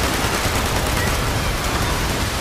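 Automated turrets pour rapid gunfire at a Scorched Beast in the Fallout 76 video game. The fire is a dense, loud, unbroken rattle with no pauses.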